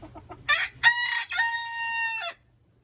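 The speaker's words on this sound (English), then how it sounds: "this is another set of chicken. This is another set of birds. These are the local ones." Local backyard chickens, with a rooster crowing loudly and close in one long drawn-out call, preceded by a few short clucks, then silence.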